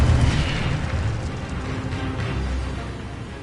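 An Incendio fire spell cast in Hogwarts Legacy bursts with a deep whoosh and boom, then fades into a steady roaring, crackling rumble that slowly tapers off.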